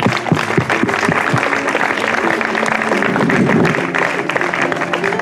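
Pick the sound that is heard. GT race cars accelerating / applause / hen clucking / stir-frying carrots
applause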